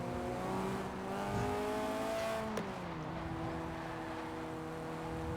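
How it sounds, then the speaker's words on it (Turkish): Turbocharged Fiat 131 (Tofaş 131) engine in Forza Horizon 4 revving and pulling through rising gears, with a sharp shift midway and a lower steady drone after, no voices. "turboyu ben duyuyorum inşallah siz de duyuyorsunuz"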